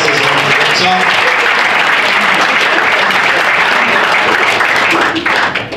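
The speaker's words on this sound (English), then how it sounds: "Second place, and I'll clap him, Uche Ikpeazu" Dense, steady applause from the crowd at a football club's end-of-season awards ceremony, loud and continuous for several seconds before it starts to thin out at the very end.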